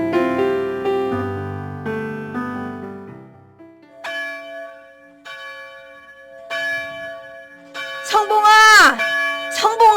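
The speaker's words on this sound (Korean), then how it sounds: "지금 예배당 종소리 들리지 않네?" Church bell ringing in a Korean radio drama, several resonant strikes with long ringing decays, loud and close, followed by a swelling burst of sound near the end; no speech heard over the bells.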